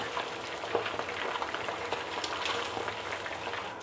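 Tilapia frying in hot oil after a week in the freezer, a steady crackling sizzle with scattered pops running alone and evenly throughout.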